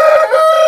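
A rooster crows once in a short, loud, close burst from a long-tailed breed kept in a coop.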